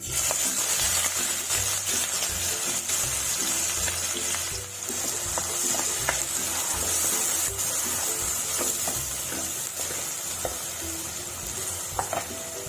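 Finely chopped medium onions fry in hot mustard oil, giving a steady, dense sizzle with faint stirring scrapes and occasional small pops throughout.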